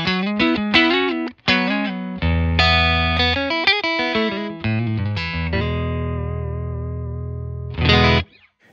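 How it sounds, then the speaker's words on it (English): A Fender Ventura 60s Stratocaster is played straight into a 68 Custom Deluxe Reverb amp, with clean picked notes and chords ringing out. Phrases are separated by short gaps, and a long chord sustains before a final strum. "Today I've got a Ventura 60s Stratocaster, and we're playing through a 68 custom deluxe reverb."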